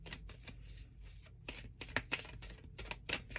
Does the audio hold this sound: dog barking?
no